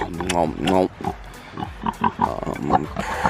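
A boar pig grunts and chomps, smacking his lips on a farm in spring, with several close, rough grunts and wet chewing bursts mixed in among a person's talk.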